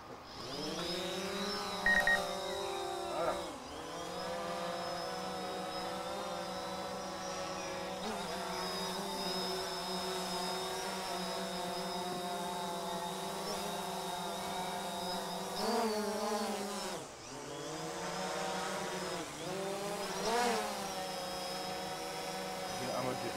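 A small drone takes off with a steady high-pitched buzzing whine of its propellers, rising and dipping in pitch as it lifts and shifts, close and continuous, with a brief drop in the motor sound midway.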